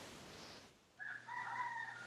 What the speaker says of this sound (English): Laughter medicine from the rooster.